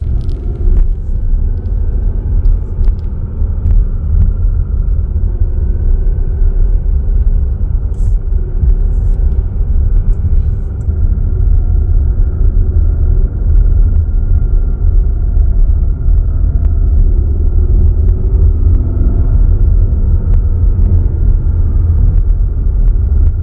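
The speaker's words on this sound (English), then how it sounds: "it was just like this hum at a frequency that's just annoying me" An abnormal, droning low-pitched hum fills the cabin of a Kia Sorento while driving, a constant loud rumble with road noise that persists unbroken for the whole stretch, no voices present.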